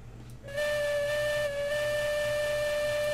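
A steam locomotive whistle in the train game Railroads Online sounds a steady, loud two-tone blast that holds for several seconds with a brief dip partway through, over a low rumbling background.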